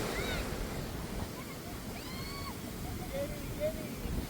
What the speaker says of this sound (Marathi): पाण्यात भरती आली आहे जोरदार एकदम.